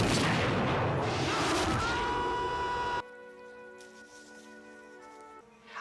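A loud, dense blast of gunfire or a boom from a film scene fills the first three seconds and then cuts off abruptly, leaving a quieter tonal background with ringing sustained notes.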